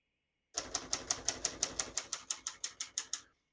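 Crisp, evenly spaced keystrokes on a 1960 Hermes Rocket ultra-portable manual typewriter, about fifteen sharp clacks in a steady rhythm, close and clear with no talking.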